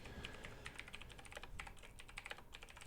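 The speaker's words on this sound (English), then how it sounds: "I'm typing away." Fingers tap steadily on a computer keyboard, rapid close clicks in an uneven flurry, quiet and alone without speech.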